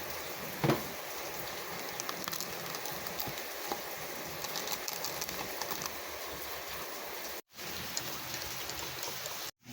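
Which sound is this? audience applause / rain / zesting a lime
rain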